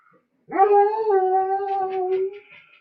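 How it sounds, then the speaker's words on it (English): A dog gives one sustained howl that slides into a whimpering whine, loud and close, standing alone with no talk around it. "That's my doggy."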